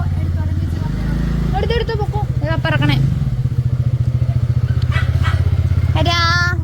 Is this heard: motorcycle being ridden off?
yes